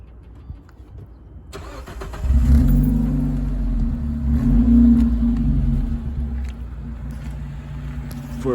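A 2013 Dodge Dart four-cylinder engine starts and revs up, then holds a steady, rumbling idle close by.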